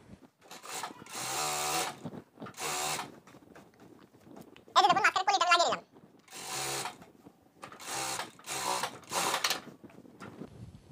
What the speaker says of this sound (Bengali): এরপর এটার মাঝখানে আরেকটা চাপ সেলাই হবে